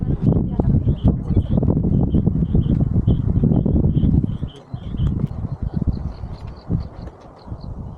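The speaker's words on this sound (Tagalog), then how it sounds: "Medyo malakas ang hangin" Strong wind at a mountain campsite in cold, foggy rainy-season weather buffets the microphone in loud, rough gusts that ease off partway through, while birds chirp faintly in the distance.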